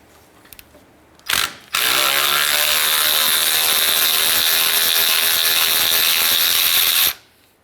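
A ratchet spins out a 10mm bolt from the AC line on a 2003-2011 Honda Element during condenser replacement, with a few quick clicks and then a steady, loud, close ratcheting buzz lasting several seconds before stopping abruptly.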